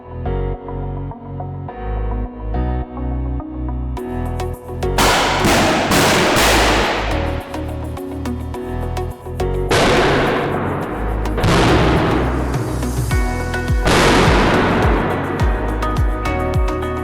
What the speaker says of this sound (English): Airbags are dismantled using a device that detonates the explosive charge to release the gas inside the